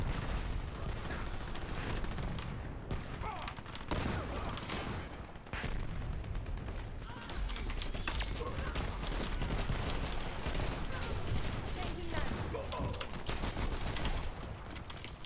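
Shotgun fire in the online shooter Dirty Bomb, with repeated booming shots and mechanical clatter packed densely through a busy, continuous game mix.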